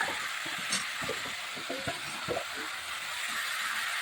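Taro stalks frying in spice paste in a pan for a traditional Bengali dish, a steady close sizzle with soft stirring scrapes and taps over it.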